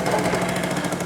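An old Honda two-stroke engine idles steadily and continuously close by, giving off a buzzy, slightly rattling drone with no talk over it.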